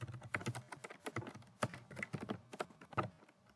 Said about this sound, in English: I'm just typing all over the place